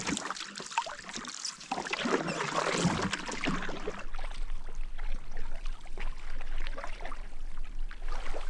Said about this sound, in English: that was really nice paddling